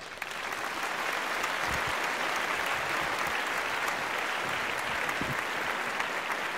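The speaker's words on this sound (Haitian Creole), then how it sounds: "je vais vous demander d'applaudir très fort Richel s'il vous plaît." An audience at the Plezikanaval Awards 2015 ceremony in Haiti claps loudly and steadily in sustained, dense applause for several seconds, with no voices standing out.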